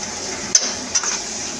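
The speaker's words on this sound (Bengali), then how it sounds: "চিকেনটা নিয়ে আসছি চিকেনটা দিয়ে দিচ্ছি" Pieces of chicken go into a hot pan with a soft sizzle and a couple of brief scraping stirs over a steady frying hiss.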